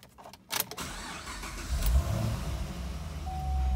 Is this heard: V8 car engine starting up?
yes